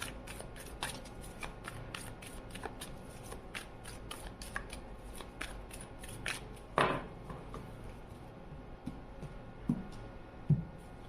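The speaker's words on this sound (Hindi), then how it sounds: "आप जिसके लिए रीडिंग देख रहे हैं हम उनके लिए भी कार्ड शफल करेंगे" Tarot cards are shuffled by hand in steady, soft riffling and flicking bursts, close and quiet, with a few sharper taps toward the end.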